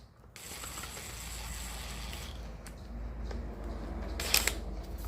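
Ratchet wrench spinning down the sump bolts on a Briggs and Stratton 27 hp V-twin mower engine, with steady close clicking running throughout and a sharper clatter near the end.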